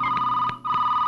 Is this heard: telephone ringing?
yes